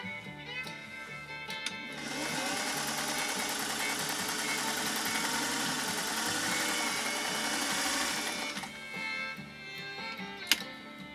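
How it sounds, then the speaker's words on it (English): A Singer 404 sewing machine, direct drive, stitches through layers of slippery polyester ribbon, its motor whirring in a steady, close run for several seconds before stopping, with a sharp click near the end. "we'll see how this 404 manages this first sew-off"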